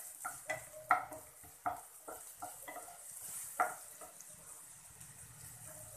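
Onions frying in a pan for mushroom and spring onion curry, stirred with a spoon in a few sharp scraping knocks over a soft continuous sizzle, close and fairly quiet.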